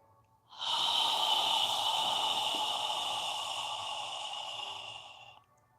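A long, steady exhale pushed out through the mouth during a yoga breathing exercise, one close, breathy rush of air lasting about five seconds before fading.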